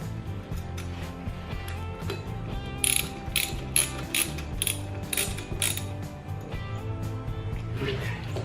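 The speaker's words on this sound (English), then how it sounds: "after we tighten these to spec, we will bend these tabs up" A ratchet wrench tightens nuts on the engine mount of a Honda CL/CB125 motorcycle, giving a steady run of clicking pawl strokes over a continuous low mechanical drone in a workshop.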